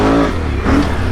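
A custom Can-Am Renegade mud four-wheeler revs hard for a wheelie, its engine a loud, close, continuous growl that rises, dips briefly and surges again.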